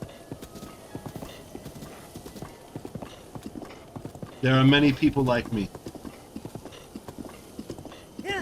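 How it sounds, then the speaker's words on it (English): Horse hooves clip-clopping in The Legend of Zelda: Breath of the Wild, a steady galloping rhythm with a loud neigh in the middle, while someone talks over it. "I'm so glad I found a horse with 4 spurs"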